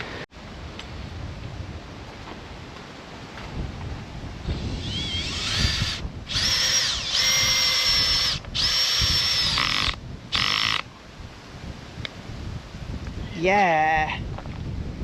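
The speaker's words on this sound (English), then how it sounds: "Paul's going to try drilling some pegs into the ground" A power drill whirs in several bursts, driving pegs into the ground at an off-grid campsite in Western Australia, starting and stopping over outdoor wind noise, with a rising whine near the end.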